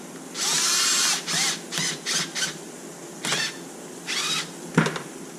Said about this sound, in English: we're gonna lock up this little bolt